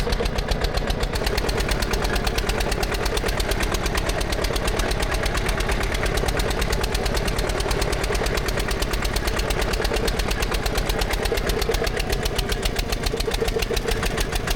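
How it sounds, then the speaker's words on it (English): A vintage Porsche Junior 108 tractor engine revs with a fast, even chugging beat, loud and close, holding steady throughout without voices. "Rev it up there. It's kind of slow getting those RPMs, but well, it's got it."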